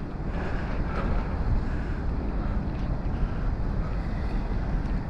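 Strong gale wind on the Paphos seafront, a loud, constant roar and buffeting against the microphone that fills the whole stretch without pause.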